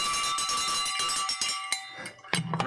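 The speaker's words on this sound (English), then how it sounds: "Ring the bell, says Matthew." A bell rung repeatedly at a Dodgers versus Padres live game watch party, bright metallic strikes with long ringing overtones in an uneven rhythm, loud and close, with no talk over them.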